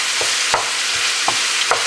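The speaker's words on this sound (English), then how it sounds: "we're going to add it to this and just stir everything in" A spoon stirs sauce into a chile topping cooking in a pan, making a constant frying sizzle. Several soft scraping strokes sound over the sizzle, and no one speaks.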